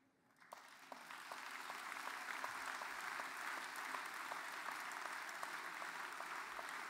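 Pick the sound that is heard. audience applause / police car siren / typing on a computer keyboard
audience applause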